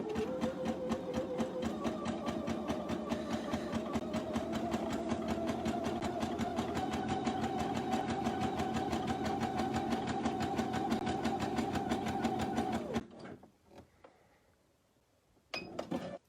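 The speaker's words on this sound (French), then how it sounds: "Je me remets en zigzag et je vais faire mon zigzag au bord." A sewing machine runs a zigzag stitch along a fabric edge while sewing shorts, a fast, steady mechanical whir with rapid needle ticking for about thirteen seconds, then stops, followed by a brief clack.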